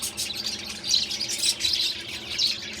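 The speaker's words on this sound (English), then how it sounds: "There's some more birds in there." Birds in an outdoor aviary chirp and squawk continuously at close range, a busy overlapping chorus of bright calls with no talking.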